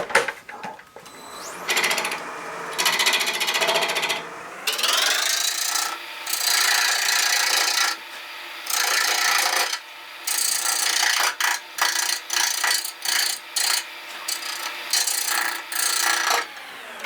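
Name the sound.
scraping a wooden figurine during wood carving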